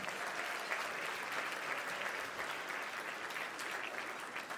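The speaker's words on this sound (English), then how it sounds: "Give them a round of applause, if you would." Steady, full applause from an audience at the Desert Arc Champions of Change event, sustained and even throughout without a break.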